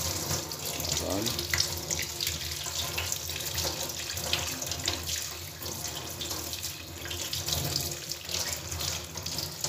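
Water from a tap runs steadily into a sink while aroeira bark is rinsed under it, a close continuous splashing flow with faint handling noises.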